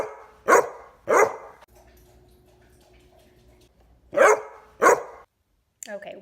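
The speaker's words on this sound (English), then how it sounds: "So Tallulah starts barking because she is upset." Dog in a room with music playing, barking in sharp loud pairs with a quieter tonal pause between them and a brief whimper at the end.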